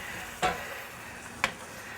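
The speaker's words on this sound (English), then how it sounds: "pour in my rum and then dip it. And there we have the flambe happening." Rum flambé sizzles and hisses in a pan on the stove for a mango and banana pavlova topping, a steady soft frying hiss broken by two brief crackling pops, with no talking.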